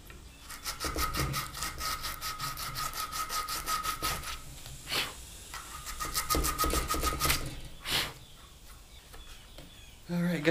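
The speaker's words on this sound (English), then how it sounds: "Chisel this out." Hand tools carve out wood while a jointed swimbait is being made: bursts of rapid, rhythmic rasping strokes, close and fairly loud, broken by short pauses and a few sharper knocks.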